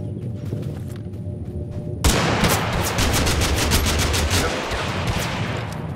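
Rapid automatic gunfire in the video game Totally Accurate Battlegrounds erupts abruptly after a quieter stretch, a dense, loud rattle of shots continuing steadily to the end.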